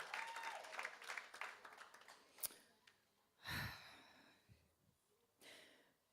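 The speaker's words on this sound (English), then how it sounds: "Give her a bigger round of applause, please." Audience applause at a school graduation ceremony, dense clapping over the first couple of seconds that thins out, with a few louder bursts and a breathy sound near the mic later on.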